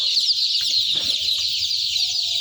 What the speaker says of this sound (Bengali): এই যে দেখুন আমি একটা মুরগি তুলে দেখাই